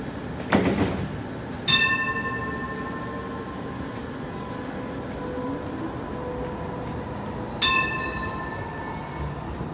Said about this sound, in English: First send the train out.